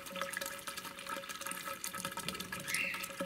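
Water pouring steadily onto young plants in a kitchen garden wicking bed, a continuous close splashing and trickling stream with no talk.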